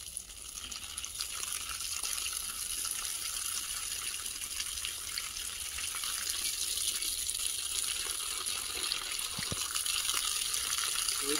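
Irrigation water gushes steadily into a muddy field with sandy soil, a continuous close rushing flow with no talk over it.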